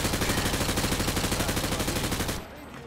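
Sustained rapid automatic gunfire in Call of Duty Modern Warfare 2 rattles loud and dense for over two seconds, penetrating light cover in a training demonstration, then cuts off abruptly.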